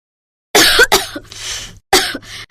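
A woman coughs in a few harsh, close bursts, a quick double cough followed by a rasping breath and another cough, with no other sound around it.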